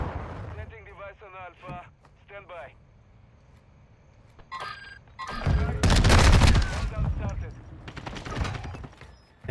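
A grenade explosion in the Modern Warfare 2 video game during a Search and Destroy match: a loud, heavy broadband blast in the second half, following quieter gunfire and footsteps, with a player's voice talking early on.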